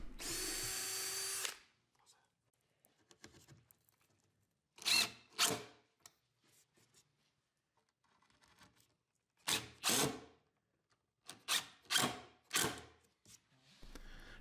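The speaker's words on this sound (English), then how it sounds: "we can essentially use that line as the mark where we're going to drill our holes and put our screws" A power drill whirs in repeated short bursts, a few seconds apart, drilling holes and driving screws into plywood, with quiet pauses between them, close and fairly loud.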